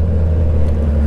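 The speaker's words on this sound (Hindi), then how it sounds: "तो अभी सी मोड पे ही बाइक चला रहे हैं 3rd नंबर पे" Suzuki Hayabusa motorcycle in C mode cruising in third gear, a steady loud low engine drone with constant wind rush, no speech.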